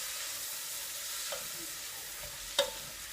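Red onions and leeks stirred into melted butter in a pan over a gentle, steady sizzle. A couple of soft scraping clinks from the spoon stand out, the louder one near the end.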